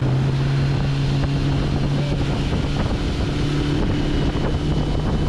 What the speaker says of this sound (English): too much wind and the waves are big